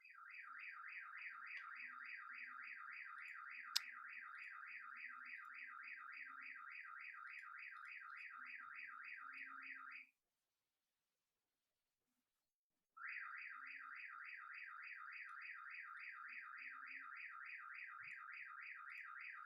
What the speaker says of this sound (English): If you can hear the car alarm going on outside